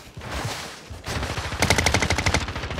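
Automatic gunfire in the shooter game Warzone: an initial muffled burst, then a loud, close, rapid machine-gun volley of about a dozen evenly spaced shots, with no talking over it.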